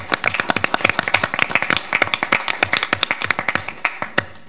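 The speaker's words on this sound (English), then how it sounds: "Let's give her a round of applause here" Scattered, distinct handclaps from a modest group at a city council meeting, the individual claps clearly separable in an uneven patter that holds steady for a few seconds without voices.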